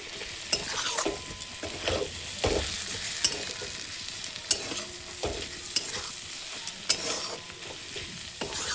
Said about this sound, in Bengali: নুনটা দেওয়ার পর এটাকে ভালো করে কিন্তু আবার একটু নেড়ে নেওয়া